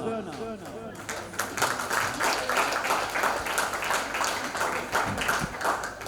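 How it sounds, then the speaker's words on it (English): Applause builds from an audience at an indigenous women's award night, a steady round of many hands clapping over several seconds after a short stretch of talk at the start. "a loud round of applause for the Women of Indigenous Excellence today is Sue Turner"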